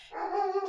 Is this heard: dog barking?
yes